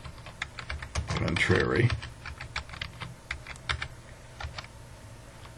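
Rapid, uneven keystrokes on a computer keyboard while entering names into an Excel spreadsheet, close and clear, with a brief burst of speech early on.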